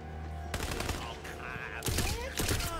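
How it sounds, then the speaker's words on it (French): Rapid bursts of enemy gunfire crackle in Tiny Tina's Wonderlands, a dense fusillade of overlapping shots that starts suddenly and flares again in loud clusters near the end, with no voices. "C'est où ce qui me tire dessus?"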